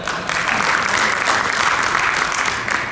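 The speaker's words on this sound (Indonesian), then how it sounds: "Tepuk tangan buat Pak Joko." An audience applauds at a regional real estate association meeting opened by a governor, with dense, loud, steady clapping that continues throughout.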